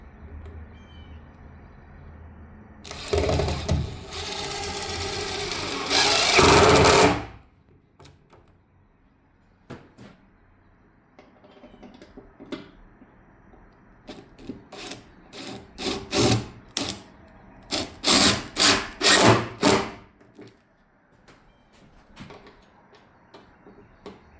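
A power driver sinks screws into a trailer backsplash, one long whirring run followed by a series of short rapid bursts, close and loud with quiet gaps between.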